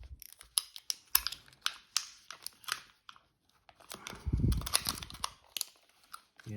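Crisp snipping and crinkling of scissors cutting something close up, irregular clicks and crunches with short pauses, quiet overall with no talking.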